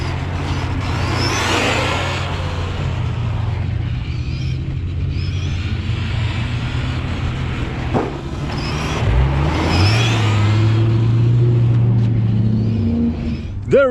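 Worn HPI Savage nitro RC car engine with a badly scratched sleeve runs continuously, a loud buzzing drone that rises and falls as it revs, without speech.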